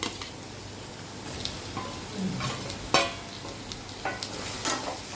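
Prawns go into a pan of onion and ginger-garlic paste, a quiet sizzle running under several sharp stirring clatters and scrapes, one loud knock near the middle.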